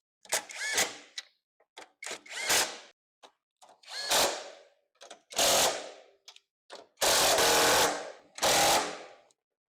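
A power tool whirs in short, loud bursts with brief gaps while a car's strut brace is fitted back in the engine bay; roughly eight spurts of varying length, close by, with no talking.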